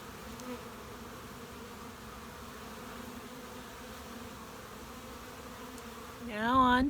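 Honeybees buzz in a steady, soft drone at a beehive entrance, with a nearer bee zipping close by in a louder, wavering whine right at the end.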